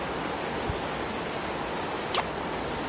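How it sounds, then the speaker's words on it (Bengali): Heavy rain pours down outside a battered house, making a steady, even hiss of broadband noise with one brief sharp knock near the end. "বাইরে প্রচুর বৃষ্টি হচ্ছে।"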